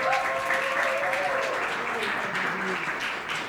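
A church congregation claps for a woman called to the front: a full, even wash of applause from many hands, steady throughout with slight murmuring voices mixed in.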